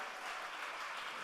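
A small audience claps briefly at an interview, a steady dense patter of hands with no voices over it.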